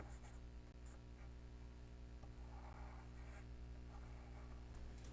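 Soft lead pencil scratching and rubbing across paper in a continuous faint, close drawing texture over a steady low background hum.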